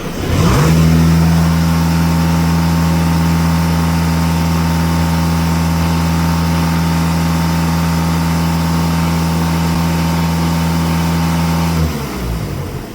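A nearly warmed-up Volkswagen Passat B8 diesel engine held at steady raised revs, giving a loud, close, continuous droning hum that starts abruptly and cuts off near the end.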